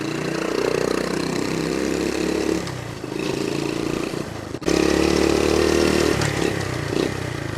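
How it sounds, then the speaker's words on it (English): A 1972 Honda CT70H motorcycle engine runs steadily up close, idling with a buzzy drone and a brief dip before it picks up again. "Absolutely the best performing 70 Honda ever made. And these engines are absolutely bulletproof."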